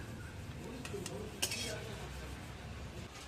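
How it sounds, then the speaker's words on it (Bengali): A spoon clinks and scrapes faintly against a pan while spicy cauliflower samosa filling is moved onto a plate. A few soft metallic taps stand out, with one sharper clink, over a quiet room hum. "এরপর একটা প্লেটের মধ্যে সব পুরটা তুলে দিচ্ছি"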